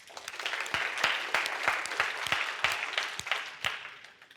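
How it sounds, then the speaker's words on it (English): Scattered applause from a summit audience, a moderate crowd clapping with sharp individual claps standing out in an uneven rhythm, fairly close and without speech. "Give yourselves a round of applause."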